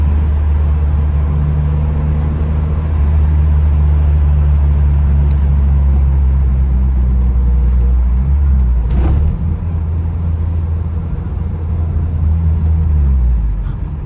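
A 1982 Honda Prelude, a 40-year-old car with a smoke issue, drives along with a loud, steady low engine rumble heard from inside, holding constant before easing off near the end.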